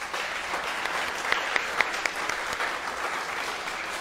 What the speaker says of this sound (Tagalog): bigyan mo ng the best na palakpak si Lord